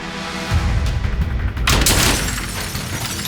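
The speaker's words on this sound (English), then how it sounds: "So they shot through the door, knocking out the glass, and went inside." AR-15 rifles fired through a bank's glass door, producing loud rapid gunshot bursts followed by a sharp crash of shattering glass, close and intense, with no voices.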